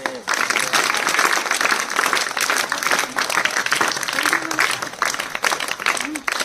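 Schoolchildren at a Zilla Parishad primary school in Kasarwadi applaud prize winners, a dense, steady patter of many small hands with children's voices chattering through it.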